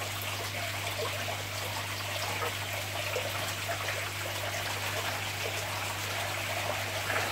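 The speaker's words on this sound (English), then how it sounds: "I'll leave the pump running" A small pump pushes water out of a shrimp tank through a hose into a bucket, giving a steady trickling, splashing flow that runs continuously at a moderate level over a constant low hum.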